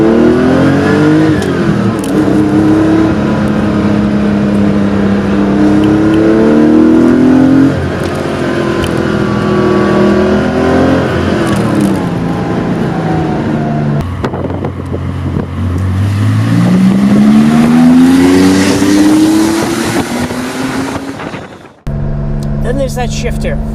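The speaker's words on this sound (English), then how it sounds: "that fantastic flat six back there, paired with this G50, which we'll get to in a second, is, well, the sound" A 1987 Porsche 911's air-cooled flat-six, paired with a G50 gearbox, revs loudly and rises through repeated climbing sweeps, heard from inside the car with wind noise and a voice speaking over part of it.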